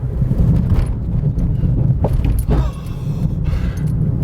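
An economy car rattles over train track bumps, with jolting thuds and clattering interior rattles over a continuous low road rumble, loud and close from inside the cabin.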